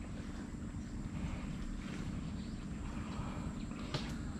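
A small boat chugs along a river, a steady low engine drone with wind and water washing around it, close by and continuous throughout.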